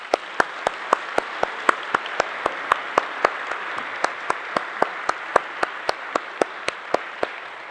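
A church congregation in Balneário Camboriú applauds to welcome a new member: a full wash of hands with a steady, even clapping beat running through it, continuing at a constant level for several seconds.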